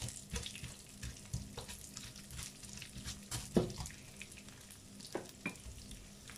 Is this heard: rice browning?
yes